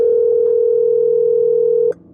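A phone ringback tone sounds as a single long steady tone while an outgoing call goes unanswered, then cuts off abruptly near the end.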